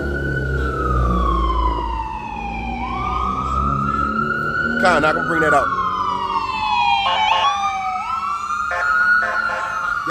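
An ambulance siren passes by outdoors at a camp in Philadelphia, wailing in loud, slowly rising and falling sweeps with sharp yelping bursts mixed in, while people talk nearby.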